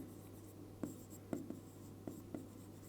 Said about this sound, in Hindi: लिख लेते हैं।